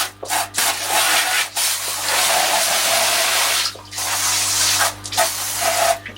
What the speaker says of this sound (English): The actual tap water that is going into the drum itself I shall siphon off.